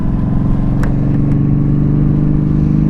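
A Yamaha V Star 1300 motorcycle engine revs steadily in second gear, a continuous loud, rumbling drone that stays even throughout with no talk over it.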